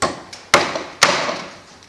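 Three sharp hammer blows ring out, evenly spaced about half a second apart, as a nail is driven into timber, the second and third strikes loud and crisp.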